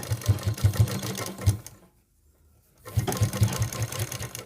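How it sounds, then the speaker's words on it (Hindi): A sewing machine stitches a suit seam in two rapid, rhythmic bursts of mechanical clatter, close and loud, separated by a brief pause of near silence. "ये सिलाई प्रैक्टिकली किस तरीके से लगेगी मैं आपको मशीन पे समझाता हूँ।"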